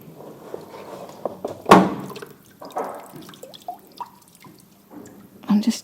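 Water drips and trickles off a soaked body cast mould held together with bicycle inner-tube bands as it drains. The drips are small, scattered and close, with one louder splash near the middle and some soft background noise.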